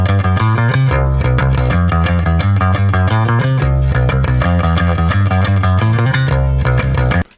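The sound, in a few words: electric guitar through heavy distortion effect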